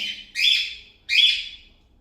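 A cockatiel gives two loud, bright chirps close by, each a sharp whistled call trailing off, separated by a short pause.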